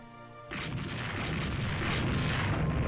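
Heavy naval gunfire booms out during a night action in the naval strategy game Rule the Waves 2, starting abruptly after a short quiet moment and swelling into a loud, sustained roar of artillery and explosions with no speech.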